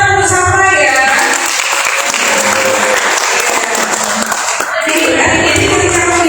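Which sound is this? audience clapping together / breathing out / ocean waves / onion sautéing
audience clapping together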